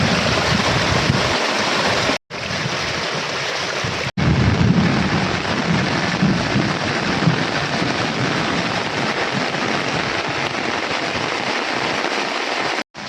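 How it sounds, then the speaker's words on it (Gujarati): Heavy rain pouring in Savarkundla, Amreli, a loud dense steady roar with a low rumbling swell that fits thunder, broken by two short cuts to silence. "સાવરકુંડલામાં હાલ વરસાદ ચાલુ છે"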